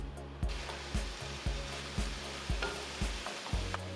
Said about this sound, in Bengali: 5 মিনিট পর ঢাকা খুলে একটু নেড়েচেড়ে নিচ্ছি।